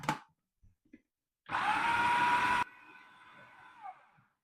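A kitchen blender whirs loudly for about a second while blending hummus with artichokes, cutting off sharply into a fading whine, with small clicks and handling sounds before it.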